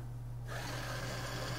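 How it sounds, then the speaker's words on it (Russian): Two small electric motors under radio remote control start up together and run forward, a steady mechanical hum that rises as they engage and then holds at an even, close level with no talk over it. "Оба двигателя вперед включаются."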